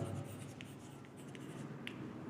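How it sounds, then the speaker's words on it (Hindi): Chalk or marker writing on a classroom board during a chemistry lesson: short, faint scratchy strokes in quick succession over quiet room tone, with no talk. "चलो मैं लिखता हूँ"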